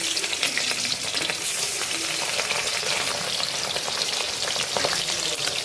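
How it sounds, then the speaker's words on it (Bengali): Pieces of katla fish fry in a hot kadai, a loud dense crackling sizzle with constant spitting pops that stays even throughout, with no voices. "মাছগুলো আমি একটা একটা করে কড়াইতে দিয়ে দেবো"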